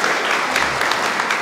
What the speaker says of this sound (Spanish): Vamos a darle un fuerte aplauso a los niños en este día que vinieron a la misa.